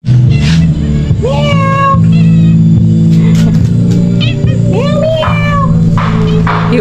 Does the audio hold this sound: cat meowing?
yes